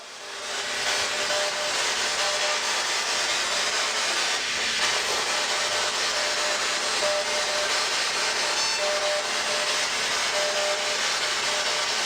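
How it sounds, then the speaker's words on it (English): Steady, loud broadband static from a spirit box radio hisses throughout, with faint flickers of tones sweeping through as it scans channels, in a reportedly haunted bar. "what you're hearing in the background is the spirit box"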